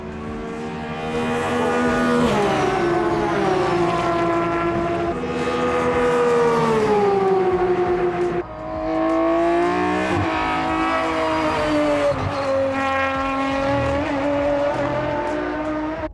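A naturally aspirated BMW race car engine in the style of 1990s–2000s motorsport howls loudly and alone, its pitch climbing and falling through repeated gear changes with sharp breaks near the two, five and eight-second marks.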